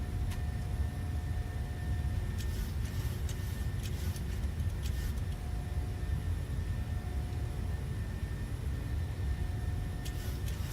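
Steady, loud jet engine roar from a PMDG 737 at climb power in Microsoft Flight Simulator, a continuous broadband rumble with a faint high whine, no voices.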